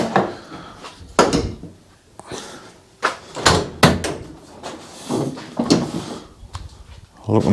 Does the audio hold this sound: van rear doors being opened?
yes